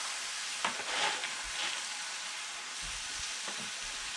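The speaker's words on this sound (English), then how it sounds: "we're adding the beef and the bacon back in" Beef and bacon go back into a frying pot for beef bourguignonne, a steady soft sizzle running throughout with a few brief stirring knocks and scrapes near the start and toward the end.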